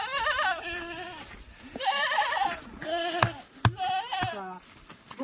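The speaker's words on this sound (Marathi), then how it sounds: "आणा शेळी आणा" A goat bleats loudly and repeatedly at close range on a farm, several wavering calls in quick succession with sharp knocks and clatter toward the end.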